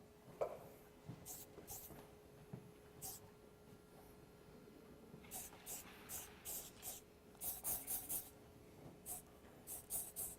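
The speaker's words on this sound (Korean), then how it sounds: "구렛나루 부분 스프레이 잘 뿌려주시고" Hair spray misted onto the sideburns while styling a K-pop hairdo, heard as a run of short, bright aerosol bursts, some in quick clusters, over a soft background.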